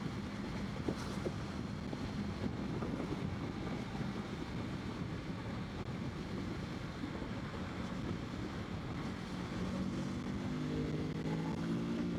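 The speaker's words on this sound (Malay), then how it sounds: "Aku rasa kalau kelaju macam ni, angin, bunyi angin je lebih ni." Wind buffeting while riding a Kawasaki Z650RS motorcycle at speed, a constant low roaring rush of air over the microphone with the engine faintly beneath it.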